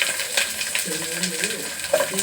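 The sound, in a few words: sliced onion, curry leaves and dry chillies frying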